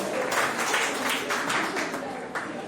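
A class claps out a rhythmic pattern in sharp, bright bursts, several claps in uneven groups, over steady room noise in a classroom.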